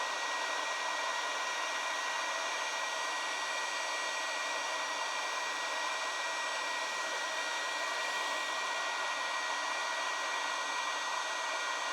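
A heat gun shrinks tubing on fiber optic fabric, producing a steady, close, unbroken rush of blowing air that holds at an even level throughout, with no talking.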